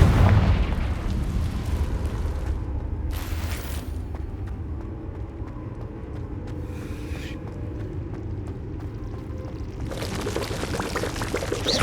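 Blasting-curse explosions from Confringo in Hogwarts Legacy, a couple of sharp bursts over a steady rushing, crackling bed of game ambience, moderately loud and with no voices.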